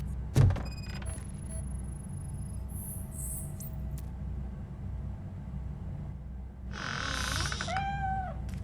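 A cat meows once in the video game Robocop: Rogue City. The meow is a short, rising-and-falling call that comes near the end, after a quiet stretch of low hum and faint high electronic tones.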